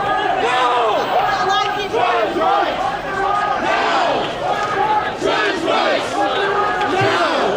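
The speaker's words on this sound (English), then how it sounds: "Very, very angry crowd of people now." Angry crowd of protesters at a trans rights street demonstration, loud continuous massed shouting and chanting close by, voices overlapping throughout with no break.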